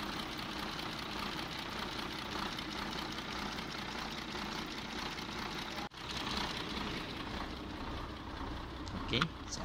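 A Volvo FL10 truck engine idles steadily with a low, knocking rumble, close by, continuing without a break apart from a brief dip and a clank near the end.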